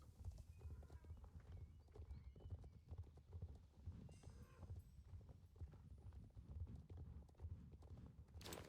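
Horse hooves clip-clop steadily in Star Stable Online, with several animals crowded close and loud, and a neigh or two surfacing over a continuous dense clatter.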